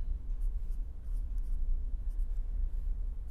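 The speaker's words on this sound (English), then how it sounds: "I will write out this expansion" Pen or chalk writing out a mathematical polynomial expansion: faint, continuous scratchy strokes over a low rumbling background, with no talking.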